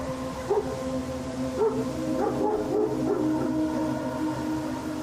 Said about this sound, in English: his dogs quickly pick up on it, barking incessantly at whatever this thing is